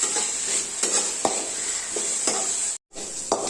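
Masala dosa potato filling sautéed on a medium flame, a continuous sizzle punctuated by several sharp spatula scrapes and stirs against the pan, close up, with a brief dropout near the end.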